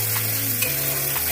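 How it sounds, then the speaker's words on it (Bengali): Spices sizzle and fry steadily in a pan while Kashmiri aloo dum is being cooked, a close, continuous crackle over a low, steady hum that shifts pitch partway through. "মশলা ভাজা হয়ে যাচ্ছে।"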